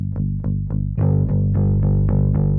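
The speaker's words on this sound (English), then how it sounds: "These are typically distorted or filtered versions of the groove, often using extra delay and reverb effects as well." A gritty, distorted bass groove pulses in a repeating rhythm, its notes smeared by filtering and trailing delay echoes.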